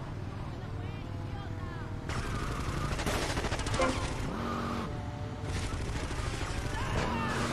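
Gunfire in GTA Vice City, shooting at a car until it explodes: several sustained bursts of rapid shots over a steady engine drone, with a voice heard now and then.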